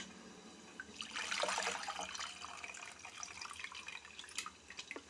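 Hands squish and swish through a bowl of water, dissolving tamarind, a wet sloshing and dripping that comes in uneven bursts, close and fairly quiet.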